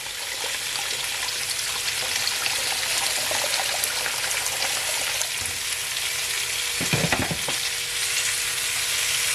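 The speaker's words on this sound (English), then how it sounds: "I'm adding water from my kettle." Water pours from a kettle into a pot of Jamaican curry cow foot, a steady sizzling rush with a brief louder splash partway through, close by and continuous.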